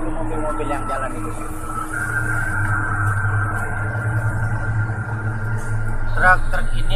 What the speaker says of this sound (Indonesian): Coba lihat dulu mobil-mobil yang jalan itu.